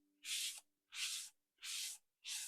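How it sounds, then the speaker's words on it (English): Four evenly spaced spritzes from a water spray bottle onto a towel, short hissing bursts close to the mic with brief silences between. "So what I do is I spray the towel"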